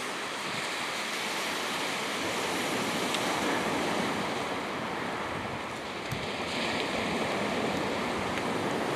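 Waves on a beach during an early winter storm at night roar in a constant, dense wash of surf with wind noise, continuous and fairly loud with no voices.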